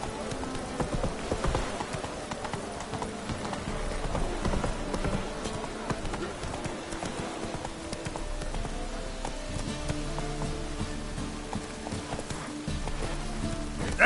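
Video game horse Roach gallops in a fast, steady clip-clop of hooves that runs the whole time, with a dense layer of game ambience and music underneath.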